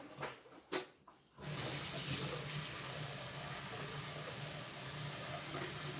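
Water runs from a kitchen tap while a soup pot is rinsed, a steady close hiss and splash that starts after a few faint knocks and then continues evenly.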